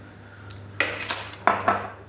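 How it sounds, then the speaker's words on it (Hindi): Lava cake batter mixed with vanilla in a bowl: a handful of quick clinking and scraping knocks of a utensil against the bowl, close and fairly sharp, with no voices. "इसको भी मिक्स करेंगे अच्छे तरीके से।"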